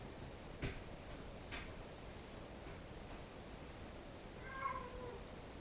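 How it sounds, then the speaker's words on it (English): A cat lets out a soft meow at the end, faint and somewhat distant, after a couple of brief ticks against quiet background hiss. "Fucking cat."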